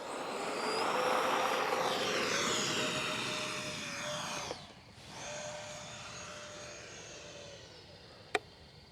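A Horizon Hobby F-15 Eagle RC jet with a 64mm ducted fan on a 2200 4S battery spools up to a loud whine, dips briefly, then resumes as it takes off and fades with distance, ending on a sharp click.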